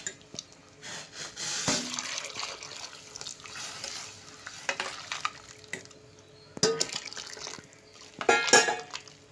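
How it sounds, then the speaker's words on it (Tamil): Six tumblers of water pour and splash into a pot of rice and dal in short bursts for sambar rice, with clinks of a vessel and a louder splash near the end. "இதில் ஆறு டம்ளர் தண்ணி விடுறேன்"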